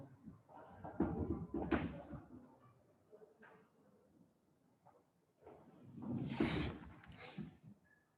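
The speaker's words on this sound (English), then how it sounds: "let me close the door." A door is closed with a couple of muffled knocks and bumps, followed by a louder thump and rattle a few seconds later, heard nearby in a quiet room.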